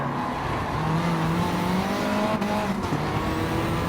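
Race car engine note from Gran Turismo 7 at Laguna Seca, with a steady loud engine drone whose pitch climbs and shifts through gear changes, continuous and close with no talking.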